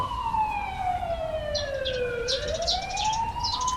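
Ambulance siren in The Coma video game wails in sweeping rising and falling tones, steady and fairly loud for the whole stretch, with no talking over it.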